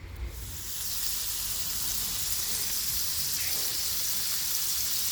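Food fries on a Blackstone Adventure Ready griddle with a steady, close hiss of sizzling that starts after a brief bump and continues evenly, with no talking.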